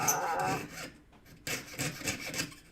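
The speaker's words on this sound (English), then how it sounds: "You should love sawing, you shouldn't hate sawing." Hand sawing wood in steady rasping strokes, close and moderately quiet, with a short pause between two runs of strokes.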